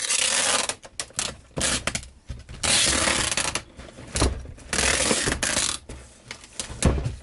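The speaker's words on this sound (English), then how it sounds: "More tape." Packing tape is pulled off the roll and pressed onto a cardboard parcel in several loud, close bursts of ripping and crackling, separated by short pauses.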